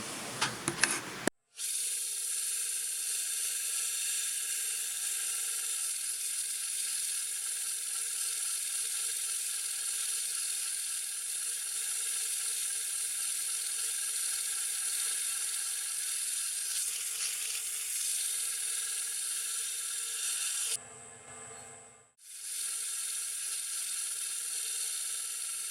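A gem cutting machine trimming a pink sapphire gives a faint, steady high whine and hiss of grinding that runs continuously, with a brief louder change in tone near the end.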